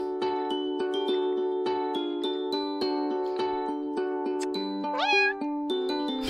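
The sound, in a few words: cat meowing in a video game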